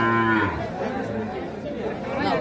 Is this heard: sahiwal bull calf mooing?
yes